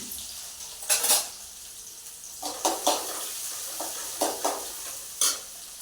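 Onion and two green chillies fry in oil with popped mustard seeds, giving a soft steady sizzle broken by a few clinks and scrapes of a stirring spoon against the pan.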